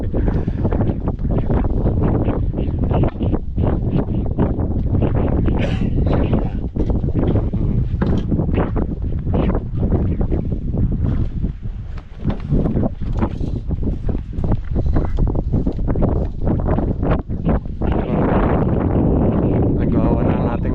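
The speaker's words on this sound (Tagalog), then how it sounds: "Sa lakas mo ng hangin." Strong wind battering the microphone aboard a boat, a loud, continuous roaring buffet with gusty surges and brief dips throughout, nearly drowning out any other sound.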